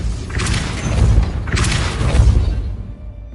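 A Depulso spell blast from a Hogwarts video game, two loud booming thumps about a second apart with a broad rushing burst, fading out at the end.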